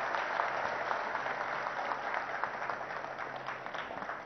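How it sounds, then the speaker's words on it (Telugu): An audience at an inauguration of an appliance and electronics factory gives a steady round of applause, a dense, even wash of many hands clapping that continues throughout without speech. "గట్టిగా ఒకసారి చప్పట్లు కొట్టాలి, మంచి పని చేసిన వాళ్ళు."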